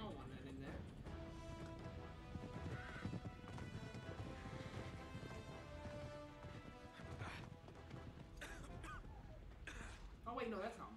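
Rhythmic horse hoofbeats clop along under a busy Uncharted 3: Drake's Deception game soundtrack, with breathy horse snorts and a short neigh mixed in; someone talks briefly over it.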